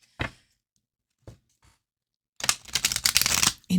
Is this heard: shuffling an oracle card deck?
yes